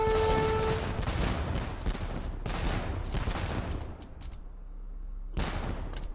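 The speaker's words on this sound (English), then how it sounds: "There are the organ guns" Organ guns fire in Age of Empires: repeated loud, rattling volleys of gunfire in dense bursts, then a lull and one last sharp volley.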